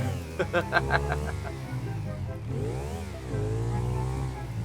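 A car engine in GTA V drones and revs up and down as the car drives, with the pitch rising through gear changes. Someone talks excitedly over it in Thai.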